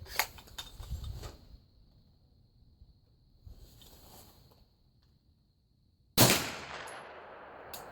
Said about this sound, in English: today we're going to fire with just straight Winchester White Box